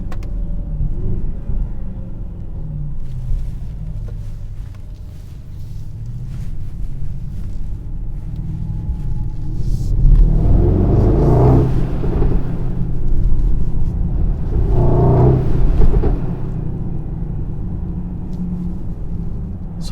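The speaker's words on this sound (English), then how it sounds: "it is definitely fun driving a very large, heavy GLS with 630 horsepower" Engine of a 2021 Mercedes-AMG GLS 63 with 630 horsepower while driving, a steady low rumble heard from inside that swells into two louder, deeper surges partway through.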